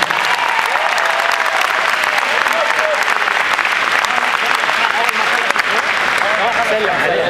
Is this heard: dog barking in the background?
no